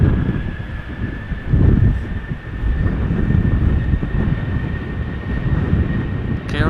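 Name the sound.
Boeing 737 airliner on the runway at Schiphol Airport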